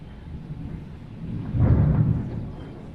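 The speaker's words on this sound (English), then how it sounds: "it's a thunderstorm" Thunder from an approaching thunderstorm, a low rolling rumble that swells to a heavier crack midway, then fades back to a distant grumble.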